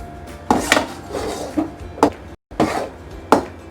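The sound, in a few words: stirring and roasting gram flour in ghee in a pan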